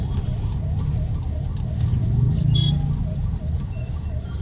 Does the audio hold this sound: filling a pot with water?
no